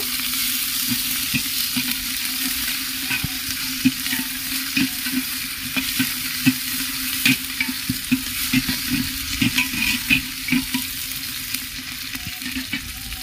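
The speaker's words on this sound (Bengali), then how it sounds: "2টো পেঁয়াজ কুচিয়ে নিয়েছি, ভালো করে একটু ভেজে নেব।" Two chopped onions frying in a pan, a continuous bright sizzle with repeated stirring scrapes and knocks of the spoon, close and fairly loud, with no talking.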